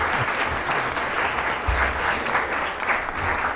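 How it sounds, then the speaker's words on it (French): An audience at a French-language launch event claps steadily, a full, even patter of many hands throughout, with occasional low thumps beneath. "nous le saluons, nous l'applaudissons"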